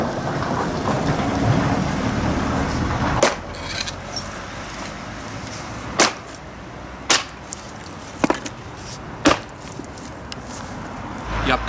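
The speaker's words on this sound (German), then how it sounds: "Und dann kannst du mit dem Holzhacken auch schon losgehen." An axe splits firewood stacked inside a car tyre, landing a series of sharp, loud, separate chops after an earlier stretch of rustling handling noise, with no talking.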